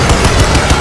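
A light machine gun fires a fast, loud, close burst of evenly spaced shots in Crysis 2 Remastered, filling the whole short moment with no talk.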